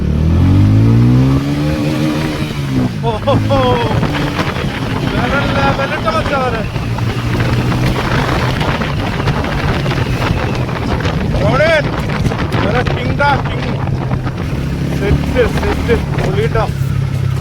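A 2025 TVS Ronin motorcycle engine revs and climbs in pitch as it accelerates in first gear, with steady wind rush over the microphone and someone talking over it throughout.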